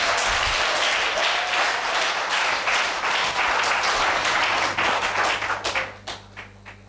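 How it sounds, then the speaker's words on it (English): Applause from a church congregation at a prophetic and deliverance service, a dense burst of many hands clapping loudly that thins into a few scattered, fading claps at the end. "Clap."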